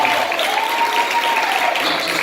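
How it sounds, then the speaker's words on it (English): Steady crowd applause for a pastor at a church memorial service, a continuous wash of clapping with a faint tone running beneath it. "Come on, give him a great round of applause."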